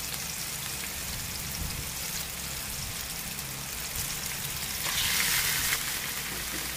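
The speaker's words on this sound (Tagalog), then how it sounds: "igisa lamang natin siya at palabasin natin ang sarili niyang mantika" Pork for dinuguan sautéing in a pan as it renders its own fat, a steady close crackling sizzle that swells louder toward the end, with no talk.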